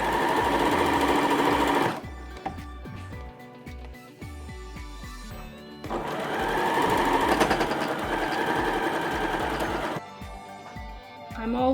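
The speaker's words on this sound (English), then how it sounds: "I'm sewing the back seams of the shirt now." A sewing machine runs steady bursts while stitching the back seams of a man's shirt, a long continuous run, a pause with light handling noise, then another sustained run, close and fairly loud.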